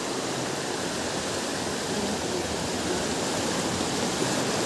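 Rushing, swirling river water deep and fast around rocks, a steady broadband roar that stays loud and unbroken with no voices over it.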